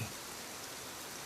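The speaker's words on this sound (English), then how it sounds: "listening to rain strike the canopy" Rain patters steadily on an umbrella canopy, a soft, even hiss of drops close overhead with no other sounds.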